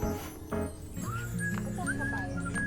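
Horse hooves clip-clop steadily along a street during a Puerto Princesa city tour in Palawan, with a possible whinny, set against a continuous busy background hum of traffic and voices.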